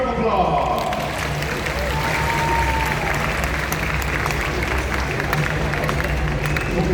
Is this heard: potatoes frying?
no